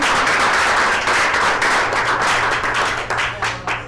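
Sustained applause and clapping from an audience at a coworking talk, welcoming a speaker to the stage; dense, loud and continuous, tapering slightly near the end, with no one speaking.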